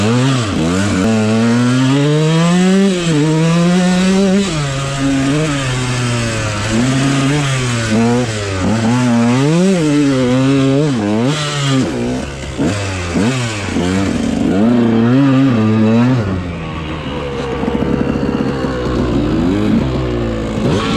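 A dirt bike engine revs hard while riding on sand, loud and close, its pitch climbing and dropping through repeated throttle bursts and gear changes before settling lower near the end.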